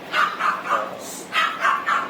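Pet dogs (Pembroke Welsh Corgi, French Bulldog, Pomeranian) bark in a quick series of yips, about six sharp barks in two bursts, moderately near and fairly faint.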